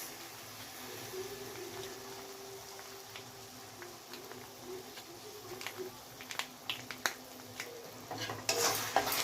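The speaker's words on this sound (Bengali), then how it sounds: "আবার কিছুক্ষণ ফ্রাই করে নেব।" Veg Manchurian frying in a pan with soy sauce, vinegar and tomato sauce, a steady low sizzle with scattered utensil clinks and stirring scrapes that grow louder near the end.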